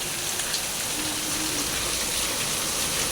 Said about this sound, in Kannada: ತುಂಬ ಜೋರಾಗಿ ಬರ್ತಾ ಇದೆ ಮಳೆ.